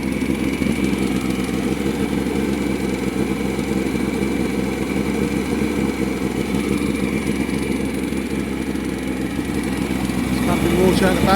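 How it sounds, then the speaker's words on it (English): A two-stroke 40 horsepower outboard boat engine runs in good, tight condition: a loud, steady, buzzing drone close by that holds even throughout, with no talking. "I would say that engine's not done many hours. She sounds very tight."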